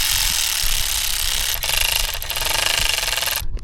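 A ratchet wrench loosening size 12 bolts on a GS300 motorcycle, with rapid, loud, continuous clicking close up that briefly pauses and resumes, no talking.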